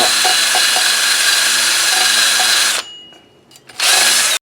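A power drill with a worn cup brush scrubs rust off the brake contact points of a 2019 Nissan Sentra rear brake, a loud continuous grinding whir that stops, briefly restarts in short bursts, then runs again.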